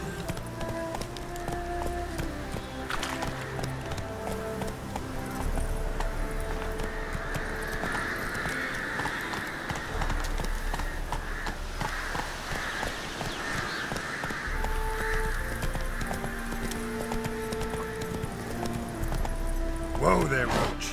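Roach, the horse in The Witcher 3, gallops with steady rhythmic hoofbeats beneath a bed of game music, with a voice speaking over the top.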